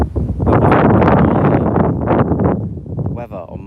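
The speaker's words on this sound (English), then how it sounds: "The wind started to pick up." Wind picking up outdoors under a dark, cloudy sky, with loud, continuous buffeting across the microphone and a slight easing near the end.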